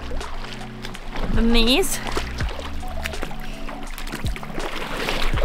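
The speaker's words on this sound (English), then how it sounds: "You hear nothing else, just the water running." River water runs and trickles steadily during an off-road rally vehicle's river crossing in remote Romania, a continuous close wash beneath a voice speaking throughout.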